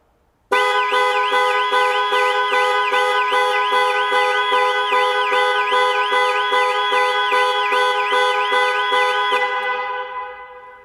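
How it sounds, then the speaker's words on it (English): A Jaguar I-PACE panic alarm sounds its horn in a loud, rapidly warbling electronic tone that pulses steadily for about nine seconds before cutting off and fading. "Press for 3 seconds or press 3 times in 3 seconds and the horn will sound and the hazard lights will flash"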